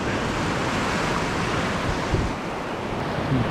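Sea swell surging against a rocky shore ledge on the UK coast, a steady broadband wash of surf with wind buffeting the microphone, close and continuous with a few heavier thumps of breaking water.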